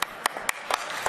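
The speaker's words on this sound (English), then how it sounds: "Round of applause, please" Scattered, sparse claps from an esports awards audience honoring a lifetime achievement inductee, several distinct hand claps spaced apart rather than a full ovation, fairly close and moderate in level.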